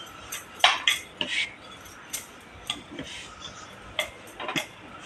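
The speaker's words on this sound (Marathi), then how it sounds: "तोपर्यंत आपला तवा पण टाकतोय." An iron tava griddle is set onto a kitchen stove, giving a series of sharp metallic clanks and light taps at irregular intervals over quiet room tone.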